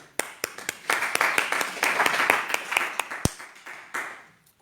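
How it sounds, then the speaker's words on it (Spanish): A church congregation bursts into a rhythmic round of hand clapping, sharp individual claps building into a dense, loud roll of applause that peaks midway, then thins to a few scattered claps and fades. "recibe este gran aplauso para ti"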